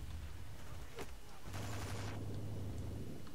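Gunfire in the video game Medal of Honor: a sharp shot rings out, then a short rattling burst follows half a second later, over a low background rumble.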